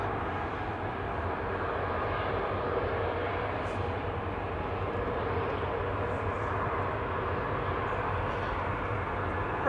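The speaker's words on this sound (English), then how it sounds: "Runner 9553 to Brussels Charleroi now, 737-800 9H QDB. I think it is on this runway" Boeing 737-800 airliner on the runway at Manchester Airport produces a steady, broad engine rumble and roar, distant but constant, without clear peaks.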